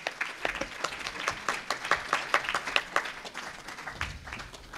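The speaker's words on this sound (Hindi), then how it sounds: "आप लोग जोरदार तालियों से स्वागत कीजिएगा" A temple gathering at a Hanuman yagna claps to welcome a pandit. The fairly quiet applause has individual claps falling into a loose, even rhythm for several seconds.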